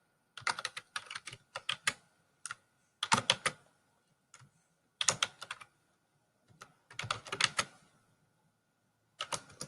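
Computer keyboard keys tapped in irregular bursts during data entry in an Excel spreadsheet, close and crisp, with short pauses between clusters of keystrokes and no talking.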